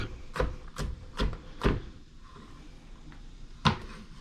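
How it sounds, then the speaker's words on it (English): Knife rough-chopping garlic on a cutting board: five sharp chops in quick succession, then a short pause and one more chop, close and distinct with no talking. "And I'm rough chopping the garlic."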